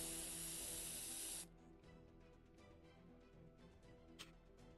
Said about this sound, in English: pulls out a can of red spray paint